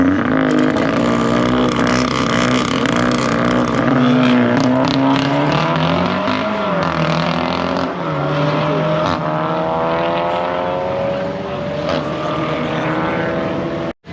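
Loud, droning engine roar with rising pitch as powerful drag race cars accelerate down the strip at Crail Raceway, sustained and fairly close, then cutting off at the end.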